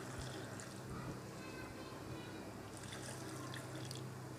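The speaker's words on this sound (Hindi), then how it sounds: "पानी जो है मैं इसमें 1 गिलास शामिल करूँगा" A glass of water pours into a grape juice mixture seasoned with black salt, making a continuous splashing rush for several seconds at close range.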